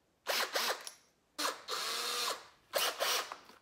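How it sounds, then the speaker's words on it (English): Three close bursts of a small drill boring holes in fishing rod tubing, each a whirring grind lasting under a second, the middle one longer, separated by brief silences. "So I drilled a hole here, drilled a hole here, and then I just cut in between the two of them"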